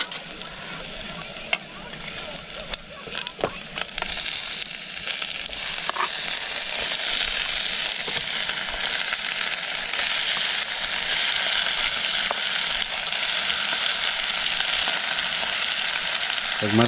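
Meat dropped into a pan already frying onion and garlic at a camp in a forest, giving a loud, steady sizzle that swells and holds, with scattered clinks of stirring throughout.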